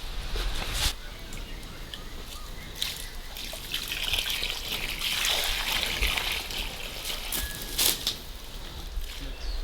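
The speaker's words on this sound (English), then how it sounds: "So give it a little bit of a nest and come back and water it in" Water poured onto the soil around a newly planted banana plant in an organic garden, a steady trickling and dribbling with small splashes, close and continuous, with faint birds in the background.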